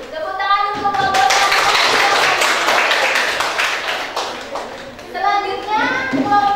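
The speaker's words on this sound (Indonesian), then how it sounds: "Tepuk tangan untuk kelompok" Classroom group clapping for a team during a teacher-training lesson, a dense burst of many hands lasting several seconds between stretches of children's and teacher's voices at either end.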